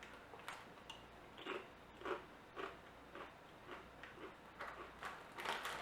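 Someone chewing thin, crispy spicy plantain chips, a steady series of faint crunching bites at an even rhythm, close and quiet.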